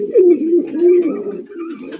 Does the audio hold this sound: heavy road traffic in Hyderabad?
no